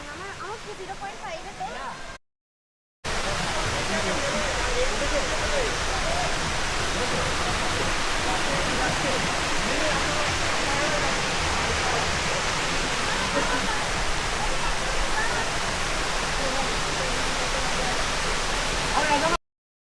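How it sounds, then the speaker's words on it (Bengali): A waterfall in Meghalaya, fed by river water that rushes straight ahead and then plunges from a height, roars as a dense, steady rush close by. A brief silent gap comes near the start, and the sound then continues unbroken to the end. "ওই নদীর জলটাই আসছে পুরো এই সোজা আসছে, আসার পর এরকম ওপর থেকে নিচে পড়ে একটা জলপ্রপাতের সৃষ্টি করছে।"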